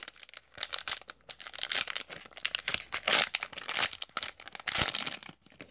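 A Topps trading card fat pack from the 2018 Update series is ripped open, giving a run of crisp crinkling and tearing wrapper noises close up, with no talking.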